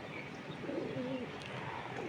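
Domestic pigeons coo softly once in the middle of a faint, hissy background, with low murmuring calls that are quiet and somewhat distant.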